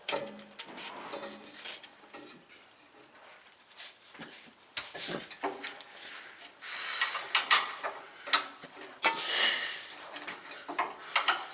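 Metal bolt being hand-started into the bracket of a replacement air dryer on a heavy-duty truck, heard as small irregular clinks, taps and scraping clatter at close range with no talk.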